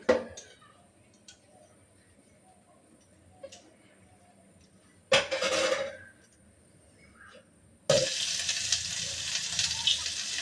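Pointed gourd dropped into hot oil seasoned with salt and turmeric: quiet near sizzle with brief scrapes and clatters, then a loud sustained frying hiss bursting in for the last few seconds.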